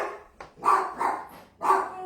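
A dog barks three times close by indoors, sharp and loud, with short gaps between the barks and a quiet room around them.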